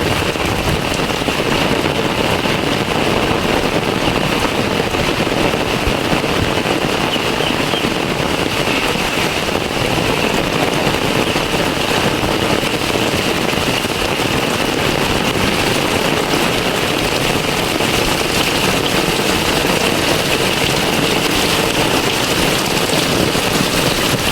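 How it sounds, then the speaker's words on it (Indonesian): Heavy rain pours over a quiet village in Kampung Pasisian, a dense, constant hiss of drops on surfaces that runs unbroken and loud the whole time. "indahnya di Kampung Pasisian saat turun hujan deras ya"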